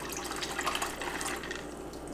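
Water poured from a tap or jug over ice and mackerel in a container during cold smoking prep, a steady close splashing and trickling stream throughout with no talking.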